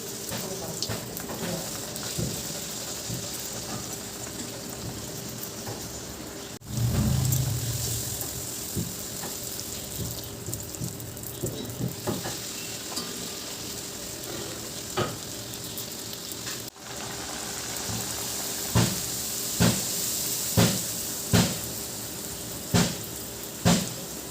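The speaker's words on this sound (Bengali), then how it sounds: "আমি লুচিগুলোও ভেজে নিই ততক্ষণে" Luchi, puffed flatbreads, frying in hot oil produce a continuous close sizzle and bubbling hiss throughout, with occasional scraping and tapping knocks from turning them, getting denser toward the end; no talk.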